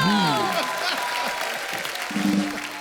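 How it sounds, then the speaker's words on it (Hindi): Studio audience applauding on a comedy talk show set, a broad steady wash of clapping with voices and a sung or shouted tone rising over it near the start. "सो जोरदार ताली आपके लिए।"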